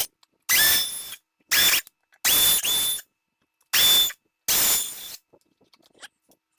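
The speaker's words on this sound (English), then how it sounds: "We're going to try a smaller drill bit." A power drill with a smaller bit runs in five short, loud, close bursts with brief pauses between them while drilling out plastic clips on a junk EZGO golf cart.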